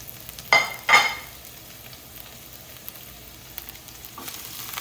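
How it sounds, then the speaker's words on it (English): Fennel and red onions stir-frying in a pan at home, a low background sizzle with two loud bursts of scraping and clatter early on, then quieter stirring, no speech. "I'm gonna start with the fennel and the red onions. Just gonna stir fry that."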